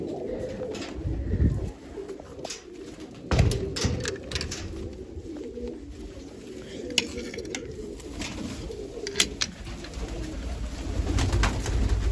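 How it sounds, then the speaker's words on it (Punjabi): Soft, repeated pigeon coos close by, with scattered thumps and rustles and occasional sharp clicks in the background. "ਕੀ ਆ ਚਾਲ ਕਬੂਤਰੋ ਠੀਕ ਠਾਕ ਜੋ"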